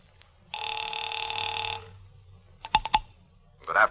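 An old rotary telephone dial whirs through a turn, followed by a few sharp clicks and the start of an electric bell ring, close and fairly clear.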